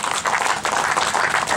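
Audience applause rings out at the launch of a skate park ride at Blang Padang, Aceh, a dense, steady wash of clapping from a crowd lasting the whole moment, with no talk over it.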